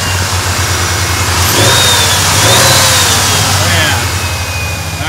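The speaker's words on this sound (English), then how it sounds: "Yeah, give her a rev." Ford F150 XLT engine revving while smoking, a loud, rough mid-pitched roar that swells and then eases back toward idle, with people talking over it.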